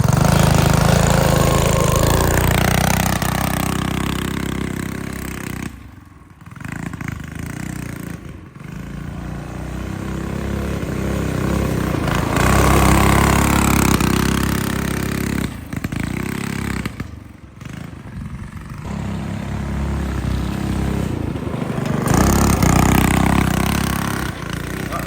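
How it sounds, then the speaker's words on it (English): A weak small engine on a mini bike or go kart runs in the snow with a buzzing, motorcycle-like drone. It surges and fades repeatedly as the machine passes near and far. "That engine's so weak, it makes no power."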